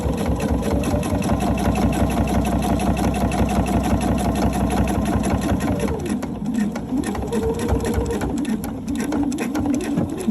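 A sewing machine stitching folded bias tape onto a Christmas tree skirt, a loud, fast, continuous motor whir with rapid needle rhythm that eases slightly and shifts in speed toward the end.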